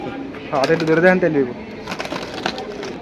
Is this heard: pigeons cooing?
yes